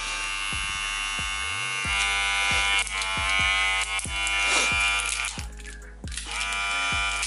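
Caliber 357 Magnum 3rd gen hair clippers, brand new, switched on and running with a steady electric buzz throughout, with repeated low knocks and handling thumps close by.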